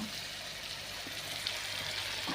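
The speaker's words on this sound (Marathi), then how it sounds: "हे टाकते बघा तेलात आपण जिरं घातले असताना" Green chilies hit hot oil with cumin seeds in a pan, giving a steady, even sizzle and crackle of frying that holds at a moderate level throughout, with no voices.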